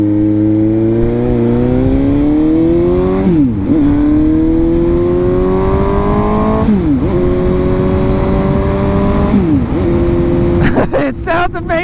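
A 2022 Suzuki GSX-S750Z motorcycle engine revs repeatedly, each climb rising in pitch before dropping back, four loud throttle blips close by with a rough idle between them.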